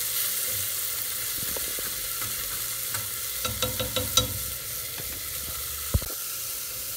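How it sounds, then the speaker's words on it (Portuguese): Garlic and onion frying in a pan for ground beef, a steady soft sizzle with a few scraping clicks of stirring and a sharper knock near the end. "Já coloquei aqui o alho e a cebola para fritar"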